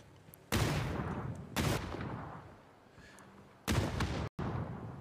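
Shotgun blasts in a PUBG esports match, with three loud separate booming shots spaced a second or two apart against quieter background game sound.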